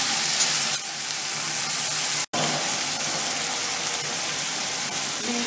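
Fenugreek leaves hitting hot oil in a frying pan while cooking aloo biryani, giving a loud, continuous close sizzle that runs throughout and drops out for an instant partway through.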